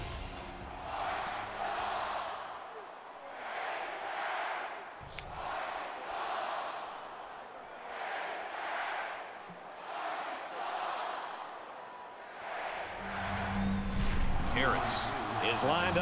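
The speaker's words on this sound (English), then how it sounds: "you can feel the thunder in the crowd as they await the start of this game" Stadium crowd roaring in an NCAA football video game before kickoff of LSU at Arkansas, a steady swelling mass of voices that rises and falls in waves and grows louder near the end, with a commentator talking over it.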